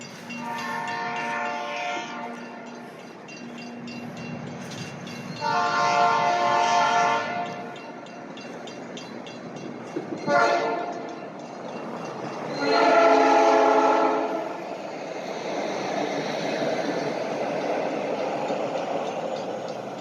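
A South Shore commuter train passes near a toll road bridge in Gary, sounding several long blasts of its horn between rumbling, clattering stretches of rail noise. There is no talk.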